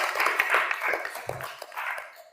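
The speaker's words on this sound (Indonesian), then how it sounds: "Tepuk tangan yang luar biasa." A classroom of students claps together during a school lesson, a steady burst of dense, close applause with scattered sharper hand claps, no voices over it.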